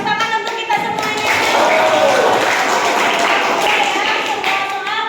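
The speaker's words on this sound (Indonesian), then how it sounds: "Tepuk tangan untuk kita semuanya." A group claps together at the close of a game tournament, the applause dense and sustained over a busy room, with voices mixed in.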